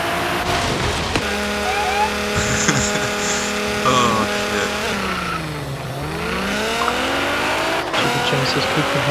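Drag racing cars, a Nissan GT-R and a Buick, rev loudly and sweep up and down through their gears in a continuous roar, with engine pitch swooping as they launch and pass, while onlookers talk over the noise.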